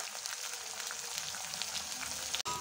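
Mustard seeds, urad dal, curry leaves and onion fry in hot oil for a snake gourd kootu, giving a steady close crackling sizzle with scattered pops, then a brief sharp knock near the end.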